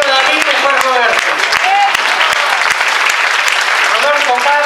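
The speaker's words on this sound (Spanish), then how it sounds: "¡Un aplauso para David!" Loud, dense applause fills a lecture hall as an audience claps for a guest, with voices calling and talking over the steady clatter of many hands.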